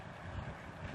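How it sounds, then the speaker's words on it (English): Brief burst of loud, blustery Hurricane Milton wind gusts roaring across the microphone in Daytona Beach, a dense low rumble throughout. "these wind gusts are remarkable"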